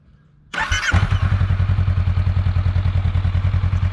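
A 2022 Honda Rebel 500 motorcycle starts with a brief starter whir and catch, then settles into a loud, steady, close-up idle with an even low thumping rhythm.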